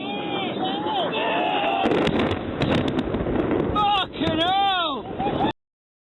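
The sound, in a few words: bombs exploding in combat footage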